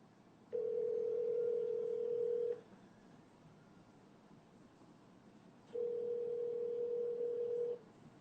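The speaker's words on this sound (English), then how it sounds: "Yeah, I can call you from my cell phone right now." A call placed from a cell phone gives two long, steady telephone tones, each about two seconds, separated by a pause of roughly three seconds. The tones are fairly quiet and clear, with no talking.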